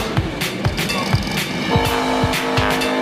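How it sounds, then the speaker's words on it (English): A car doing burnouts roars under loud revving with sustained tire squeal and rhythmic thumping, close and continuous, a crowd-like din mixed in. "Fully sick burnouts, mate."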